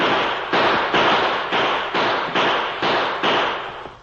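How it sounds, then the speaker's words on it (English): In a 1949 Lone Ranger radio drama, outlaws are fired on, and a gunfire sound effect cracks out as a rapid, evenly spaced volley of about eight loud shots, each decaying quickly. "his guns blazing away in the direction of the retreating outlaws"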